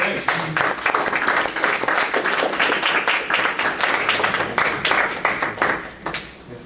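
An audience claps together at a talk on robot-made art, a dense, steady burst of many hands that carries on for several seconds and then tapers off near the end.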